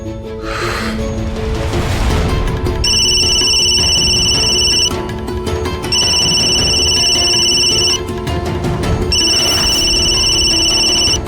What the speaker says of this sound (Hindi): तो वो हमारा फोन क्यों नहीं उठा रहे केतारी भैया?